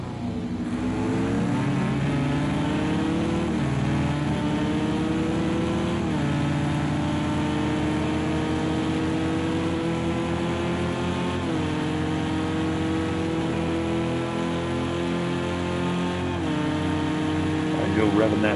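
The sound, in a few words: GTE race car engine revving, from racing sim game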